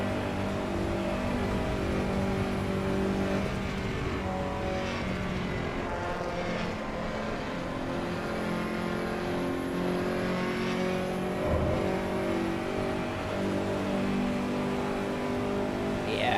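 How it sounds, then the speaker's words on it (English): Lancia Integrale engine in a car-based driving simulator game, a steady droning note with harmonic layers held continuously and fairly loud throughout, with slight rises suggesting revving through the gears. "this is the Lancia Integrale"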